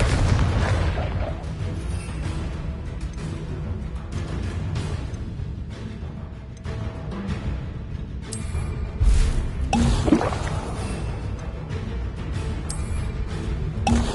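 An explosion spell goes off in the Hogwarts Legacy video game: deep booms and blasts burst out around the middle of a dense, continuous wash of spell combat effects, with no quiet gaps between them.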